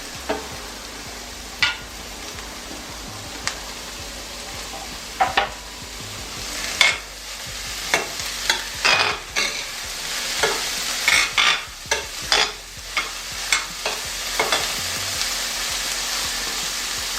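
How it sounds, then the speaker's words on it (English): Bell peppers sauté with onion in olive oil in a pan for a South African chakalaka, a steady soft sizzle broken by repeated sharp scrapes and clacks of stirring, close and alone with no talk. "I'm going to be adding my peppers into the sauteed onion."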